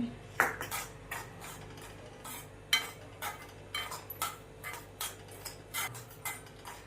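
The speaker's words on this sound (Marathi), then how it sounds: "परत एकदा थोडं तूप टाकून रवा भाजून घेते" Semolina roasting in ghee is stirred around a pan, making a rhythmic series of sharp scraping strokes about every half second over a quiet background, with no speech.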